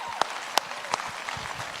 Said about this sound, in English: Let's give the girls a big round of applause.